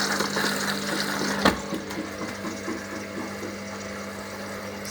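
A Hoover HLW585DC washing machine drawing in water for its final rinse, a steady rushing flow with a pump-like hum and a single thump near the start, continuous and close.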